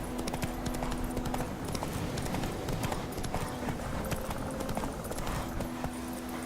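Horse hooves clip-clop steadily at a trot while riding in The Witcher 3: Wild Hunt, an even, close rhythm of hoof hits over the game's background sounds.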